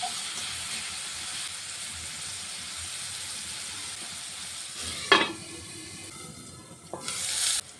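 Radish greens fry in a pan with a soft, steady hiss, then a sharp clatter of stirring and a louder burst of sizzling near the end.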